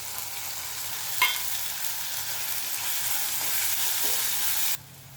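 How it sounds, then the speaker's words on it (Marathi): Onion, garlic and tomato frying in a pan for a bitter gourd dish, a loud, steady hissing sizzle with a single spatula clink, then the sound cuts off abruptly. "कांदा परतून झाल्यानंतर त्यामध्ये टोमॅटो घालायचं आहे"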